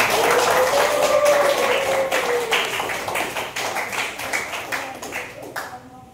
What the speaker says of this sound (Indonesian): Kita kasih aplaus sekali lagi.